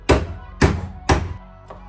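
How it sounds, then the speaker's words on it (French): Three sharp, loud hammer taps driving the cross pin out of an electric mountain bike's brake lever, evenly spaced about half a second apart and ringing briefly, then a faint fourth tap. "On tape délicatement au marteau."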